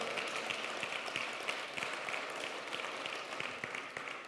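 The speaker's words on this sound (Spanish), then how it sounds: "dale fuerte el aplauso" A church congregation applauds in a faint, distant, continuous patter of many hands clapping, with no talk over it.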